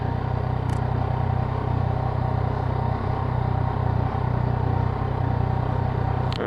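A motorcycle cruises along a road, its engine a steady, close, rumbling drone with wind noise and slight rattles, holding an even pace without obvious revving, and no one speaking.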